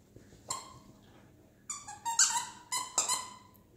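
A dog chews a squeaky toy hedgehog, producing sharp, high-pitched squeals in short bursts: one squeak early on, then a quick cluster of several close together, all near and fairly loud.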